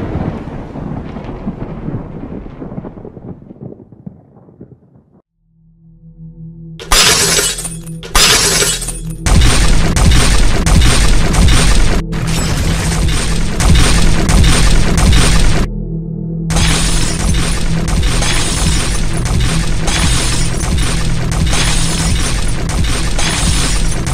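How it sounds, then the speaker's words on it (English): Glass breaks amid a chaotic rumbling scene: a fading low rumble gives way to a heavy crash, then loud sustained shattering and crunching debris that runs on with brief gaps, with no speech. "Holes in the walls everywhere, glass breaking."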